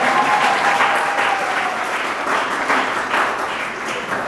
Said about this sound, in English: That is a round of applause for Zachary and his homework